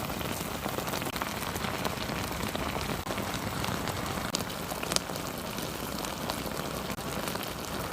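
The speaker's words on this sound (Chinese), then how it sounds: "关火了还咕嘟呢" Thick braised pork belly sauce bubbling in a pot after the heat is off, a dense steady close-up simmer of tiny pops and gurgles with no talk.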